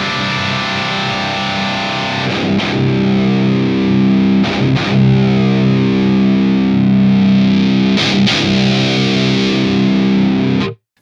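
Electric guitar through the PolyChromeDSP McRocklin Suite plugin plays thick, sustained distorted chords with a resonant, airy top end, changing chord a few times with brief pick attacks, loud and alone throughout.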